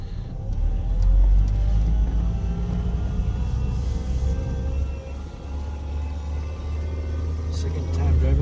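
An old Toyota MR2 drives around the block, its engine a steady low rumble heard from inside the cabin with slight rises in revs, while people talk over it.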